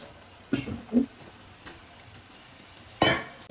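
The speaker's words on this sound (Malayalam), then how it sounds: "ചിക്കൻ ഇട്ടിട്ട് നന്നായിട്ട് മിക്സ് ചെയ്തിട്ട് കൊടുക്കാം" Raw chicken is stirred into a spiced masala for kappa biryani in a pan: a few distinct scraping, clattering strokes of the spoon with quiet gaps between them.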